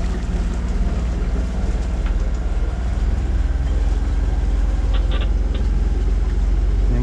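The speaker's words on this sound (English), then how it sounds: "We are testing the engine after cleaning the diesel and changing the filters" A boat's diesel engine runs steadily on a sea trial after its fuel has been cleaned and its filters changed, a loud continuous low rumble with a few brief higher clicks.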